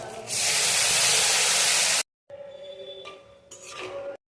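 Capsicum hits a hot pan already seasoned with black cumin, dried red chilli and bay leaf, letting out a loud, dense sizzle for about two seconds, then a brief silence followed by quieter crackling with some utensil clinks.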